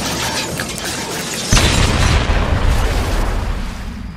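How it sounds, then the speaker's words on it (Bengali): A launch boat explodes on a river in a Bangla horror audio drama: a sudden heavy boom cuts into steady rushing noise, then a loud rumbling roar carries on without voices. "যেন বোমার মতন বিস্ফোরিত হলো লঞ্চটা"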